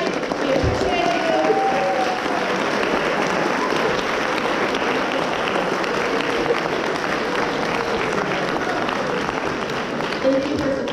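Audience applause at a school choir concert, a sustained dense wash of clapping from a large crowd in a hall, steady for the whole stretch.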